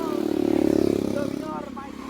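A motorcycle engine revs and drones nearby, swelling then fading as it moves past, with people talking over it.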